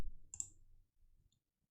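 A single sharp mouse click on a Windows settings button, crisp and close, followed by faint low rustle and near silence.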